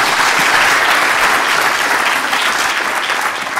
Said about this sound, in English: give a little applause for Ashwin